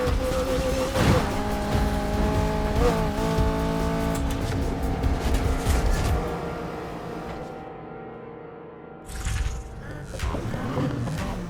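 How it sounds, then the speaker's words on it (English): Race-tuned engine of a BMW M3 E46 race car in Need for Speed Heat, roaring loud and close with steady revs and shifting pitch, a brief dip then a renewed burst near the end. "I was able to do the livery, and of course put in a race car sounding engine"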